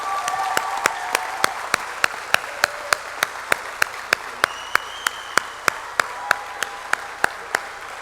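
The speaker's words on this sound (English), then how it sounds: "And let's just have a really hearty round of applause for 50 years of excellence." Rhythmic, evenly timed clapping at a law school graduation ceremony, sharp regular beats over a low room hum with some murmuring voices beneath, like a crowd clapping in unison.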